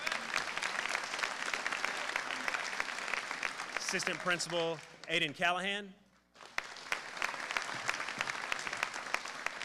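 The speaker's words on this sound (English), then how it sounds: "round of applause." A crowd at a high school scholarship night claps for an assistant principal. Steady applause runs throughout, pauses briefly while a voice announces a name over a loudspeaker, then resumes just as full.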